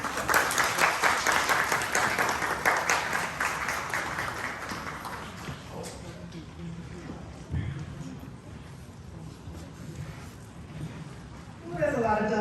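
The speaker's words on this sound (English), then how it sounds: "Can we give another round of applause to all of our seniors and to the families?" Audience applause for seniors and their families at a ceremony, steady clapping from a crowd that holds for several seconds, then thins out into scattered claps and room noise, with a brief swell near the end.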